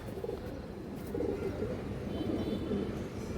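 A large silver female pigeon coos in low, rolling murmurs that swell and fade over a few seconds, sounding close by with no other voices.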